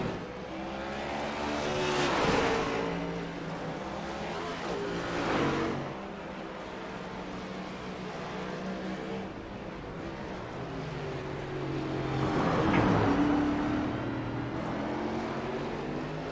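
Race cars in a BRR Cup race at Road America sweep past one after another, engines rising to a loud Doppler peak and fading, with a continuous engine roar between passes and no talk.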